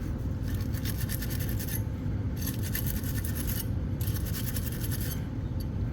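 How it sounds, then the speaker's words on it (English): A wire brush scrubs a brake caliper bracket during a disc brake pad and rotor job, giving steady, close, loud rasping strokes in three bursts separated by brief pauses, with no talking. "Wire brush."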